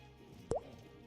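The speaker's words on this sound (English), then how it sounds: "notice I changed some of my sounds and stuff. It's a drip now." A single short liquid drip, a stream alert sound, plops once near the middle over a faint quiet background.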